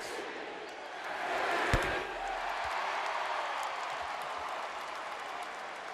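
Basketball arena crowd applauding and cheering during a Toronto Raptors versus Los Angeles Lakers game, a broad sustained roar with a sharp thud partway through, moderately loud and without speech.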